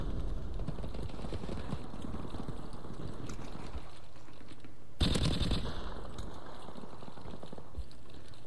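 Rapid automatic gunfire from Call of Duty 4: Modern Warfare Remastered rattles in a dense, continuous stream, broken by a louder burst partway through, with no talking.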